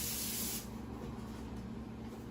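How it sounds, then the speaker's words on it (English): A short burst of nonstick pan spray hisses onto a quarter sheet tray, then cuts off, leaving a quiet low hum behind it. "So here I have our quarter sheet tray and our pan nonstick spray"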